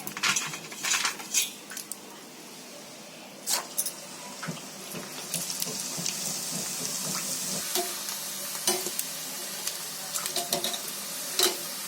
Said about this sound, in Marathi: आता एक सांडगे तळून दाखवते, उपवासासाठी आहे.